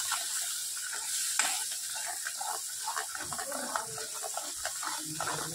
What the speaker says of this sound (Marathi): मिक्स करत राहायचं आहे